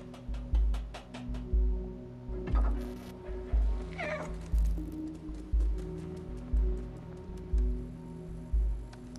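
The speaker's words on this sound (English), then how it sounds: "So the meowing is used as like" A cat meows in the video game Stray, faint and brief amid a steady rhythmic thumping game soundtrack, with soft clicks and ambient tones.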